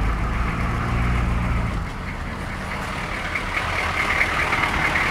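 Cold turbocharged car engine idling early in the morning, a steady rough low rumble with a slight shift in tone partway through, no voices.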